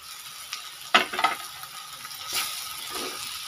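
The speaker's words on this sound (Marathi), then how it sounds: "हे उकडून घेतलेले बटाटे आहेत बघा, ते मी ह्यामध्ये टाकून घेणार आहे" Boiled potatoes drop into hot oil in a pan and are stirred, giving a close, low sizzle broken by a couple of sharp scraping clinks from a spoon, then a soft steady frying hiss.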